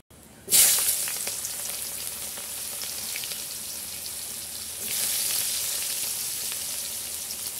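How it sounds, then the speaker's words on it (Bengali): Chopped onions hit hot oil with whole cumin seeds and bay leaves, bursting into a loud sudden sizzle that settles into steady frying and swells again near the end. "এখন আমার কুচিয়ে রাখা পেঁয়াজগুলো দিয়ে দেবো।"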